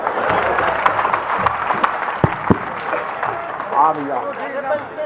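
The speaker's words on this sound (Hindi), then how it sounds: "तालियां बजाओ तो" Audience at a Haryanvi comedy poetry show breaking into scattered clapping and cheers, moderately loud under a performer's ongoing speech.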